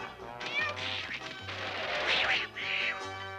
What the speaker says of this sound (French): Oui, un chat noir.